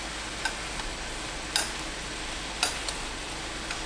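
Pork hind-leg rolls with perilla leaves and glass noodles reducing in a spicy sauce in a pan, giving a steady, even sizzle throughout with a few sharp light clicks from the pan.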